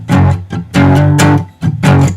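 Distorted electric guitar chugs a chromatic power-chord riff, played out of drop A tuning, in short loud bursts with brief gaps between chords.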